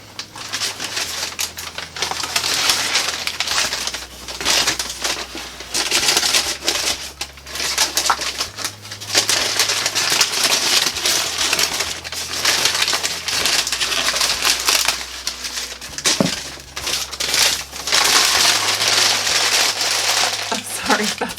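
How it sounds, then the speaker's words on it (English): Crinkly plastic filler material for a snake shipping box is handled and cut with scissors, giving loud, continuous crackling and rustling throughout, with brief moments of speech mixed in. "filler material for the box. So I'm sorry if this is crinkly and loud."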